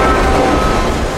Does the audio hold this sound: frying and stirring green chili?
no